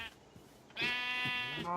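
A sheep in the Minecraft FTB Infinity Expert modpack gives one clear, drawn-out bleat at close range. It follows a quiet stretch, and a second bleat starts just as the clip ends.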